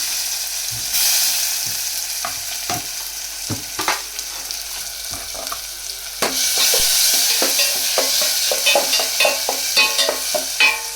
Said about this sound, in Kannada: ಈಗ ತಕ್ಷಣಕ್ಕೆ ಟೊಮೆಟೊ ಹಾಕ್ತಾಯಿದ್ದೀನಿ